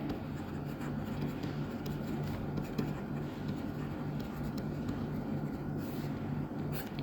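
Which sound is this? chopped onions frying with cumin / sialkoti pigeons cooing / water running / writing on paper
writing on paper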